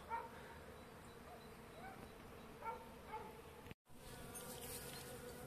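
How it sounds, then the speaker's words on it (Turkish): A steady hum of many bees buzzing outdoors around a cornelian cherry tree in Trabzon in January, with a few faint dog yips in the background and a brief dropout. "Bu kızılcık ağacında bayağı bir uğultu var."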